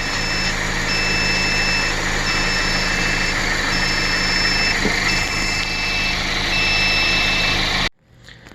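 A 2016 Mazda MX-5 salvage car idling steadily just after starting up, a close, even engine hum with a repeating electronic beep tone over it, until the sound cuts off abruptly near the end.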